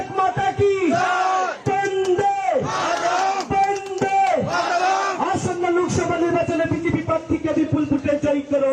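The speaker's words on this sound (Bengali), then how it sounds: "এই শুভ উদ্বোধনে সবাই একসাথে স্লোগান দেবো, বলে ভারত মাতা কি" A large crowd at a rural padayatra campaign rally in Nabagram, Bamutia, roars the slogan "Bharat Mata ki Jai" in loud, repeated unison shouts that swell and overlap, close and sustained throughout.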